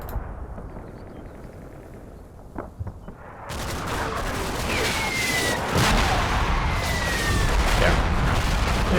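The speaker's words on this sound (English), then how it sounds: "Is that just a random artillery shell?" Artillery shells burst in the Normandy wargame Combat Mission: Battle for Normandy, a loud rumbling blast kicking in after a quieter stretch, then sustained heavy booming and crackling gunfire continuing through the rest.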